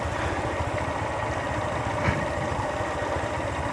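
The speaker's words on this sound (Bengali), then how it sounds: "চাকা খুবই স্লিপ করতেছে ভাই।" A vehicle engine drones steadily and loudly with a rough low rumble, revving slightly as wheels struggle for grip on a hill road near Hungchut Megh Kuthi resort in Naikhongchhari.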